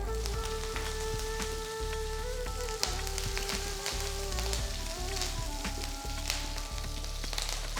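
Cumin seeds, mustard seeds, urad dal and red chillies sizzle and crackle in hot oil, with dense popping over a steady fry and a few clinks from a utensil in the pan.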